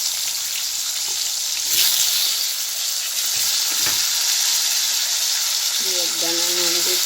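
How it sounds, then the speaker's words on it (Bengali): Potatoes frying in hot oil in a wok, in oil just used for frying fish: a loud, continuous, close sizzle that stays steady throughout, with a brief tonal squeak near the end. "আলুগুলো একটু ভেজে নেব।"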